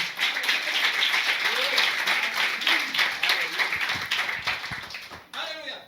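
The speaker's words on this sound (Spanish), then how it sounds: "Denle fuerte el aplauso al Señor." A church congregation claps steadily, a dense, loud wall of applause that holds for several seconds and tapers near the end, with a voice faintly audible over it.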